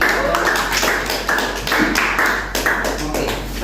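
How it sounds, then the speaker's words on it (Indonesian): Students clap together in an Indonesian classroom at the end of a lesson, a dense, steady patter of many hands held close and loud for a few seconds, with a low steady hum underneath. "Berikan tepuk tangan untuk semua kita."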